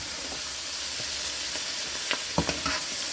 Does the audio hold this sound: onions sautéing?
yes